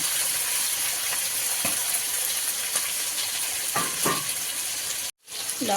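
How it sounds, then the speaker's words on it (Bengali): A spice paste with green chilli and ginger fries steadily in a pan, a continuous loud sizzle with faint scraping stirs, then cuts out briefly near the end. "কাঁচা লঙ্কা আদা দিয়ে মশলাটাকে একটু কষিয়ে নেবে"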